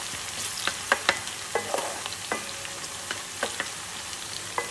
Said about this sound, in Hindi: मैंने हरी प्याज डाल दी है इसको हल्की सी सौते करनी है